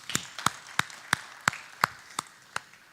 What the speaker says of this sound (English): a big round of applause for yourself for being here